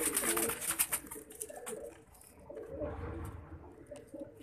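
Soft pigeon cooing, low and throaty, with some brighter bird chirps early on, fairly quiet and close.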